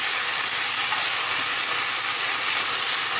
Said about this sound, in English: once your oil is nice and hot, add in the red pepper. Add in the red onion. Just gonna saute these